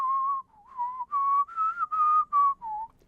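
Melodic whistled tune from a cover, clear sustained phrases in a steady rhythm with brief gaps between notes, alone with no talk.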